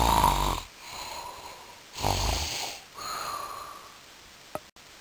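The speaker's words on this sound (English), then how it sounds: "He was sleeping near his den and snoring loudly." A lion snores loudly as it sleeps near its den, three long rasping breaths rising and fading in slow rhythm, close and alone, ending with a faint click.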